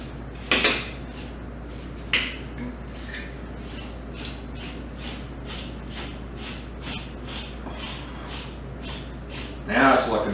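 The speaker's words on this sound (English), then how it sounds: "So I'm taking the back of my knife, just keep scraping, and there's some more hair and dirt coming out." The back of a knife scrapes hair and dirt off an elk back strap in repeated short rasping strokes at a steady rhythm, close and fairly quiet, with a couple of louder knocks.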